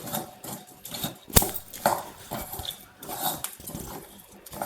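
A spoon scrapes and clatters against a pan while a rice mixture is stirred over and over as its water cooks off, a busy, close rhythm of metallic scraping with a few sharper knocks.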